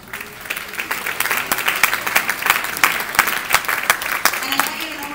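Audience applause on stage fills the space, dense steady clapping that swells and holds for several seconds, loud and close, with talk underneath.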